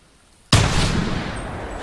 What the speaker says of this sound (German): Dann werde ich jetzt mal den Schuss abgeben